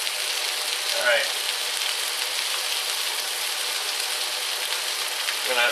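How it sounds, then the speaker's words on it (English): Sausages fry in a pan with a continuous, fairly loud crackling sizzle, close up and steady throughout. "we're going to fry these onions, not onions, sausages for a few minutes"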